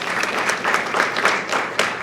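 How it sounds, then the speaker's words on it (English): A crowd at a congressional press conference on the George Floyd Justice in Policing Act applauds a congresswoman, continuous close clapping from many hands, loud and even throughout the short burst. "A round of applause for our great Congresswoman."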